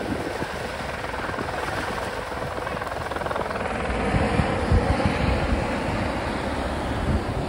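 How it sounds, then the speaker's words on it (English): A helicopter approaches luau grounds in Hawaii, a continuous rotor drone mixed with wind that swells louder about halfway through, with no talking. "they could land a chopper here"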